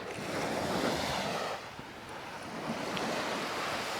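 Mediterranean waves lap on a beach at high tide, making a continuous soft wash that swells and eases, with light wind brushing the microphone and no voices.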